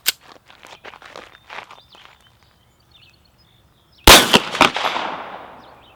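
A Glock 19 pistol fires Winchester 124 grain NATO 9mm rounds, with sharp loud shots arriving in a quick cluster near the end after quieter shuffling and handling noise.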